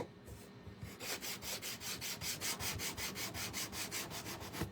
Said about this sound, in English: So I'm going to use another piece of sandpaper just to clean it out.